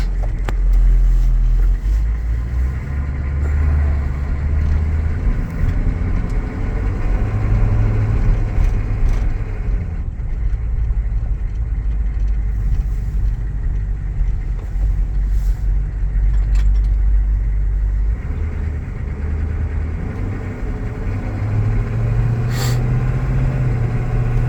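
A 1997 Chevrolet Tahoe with a 6.5-litre Detroit turbo diesel runs with a steady, close, low rumble. The engine note holds even and unbroken throughout, with no voices.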